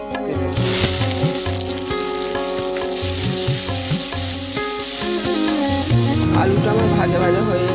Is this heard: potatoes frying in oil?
yes